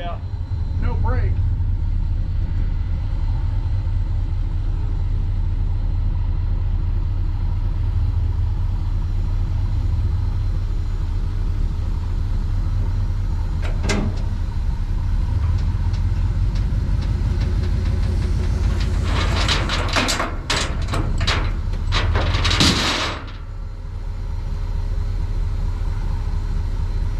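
A 1948 International KB-8 truck engine runs steadily with a low, continuous rumble for the whole stretch, a few sharp clanks and rattles breaking in near the end, while people talk over it.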